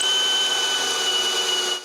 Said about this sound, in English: I also need to cut the long planks to length